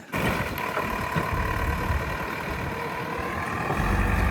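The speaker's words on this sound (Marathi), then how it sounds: "थोडा ट्रॅक्टर गुतलाय लाकडांमुळे" A tractor engine runs steadily while the machine is stuck on logs, a loud continuous diesel rumble with a low throb that swells slightly near the end.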